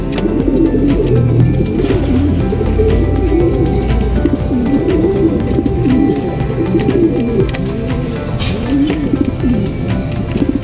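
Pigeons coo repeatedly in low, throaty murmurs over a steady background rumble, several birds close by.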